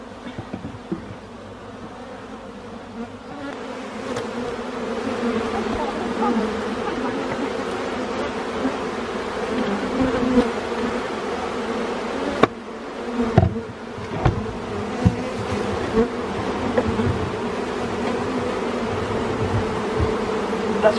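A dense, continuous buzz of honeybees fills the space as honeycomb is cut from a wild colony, steady and close, with occasional knocks and handling noises and brief quiet talk.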